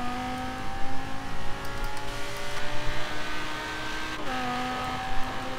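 Audi R8 engine in Forza Horizon 3, a steady close droning note with strong harmonics that holds, then drops as the car shifts, pulsing slightly throughout with no talk over it.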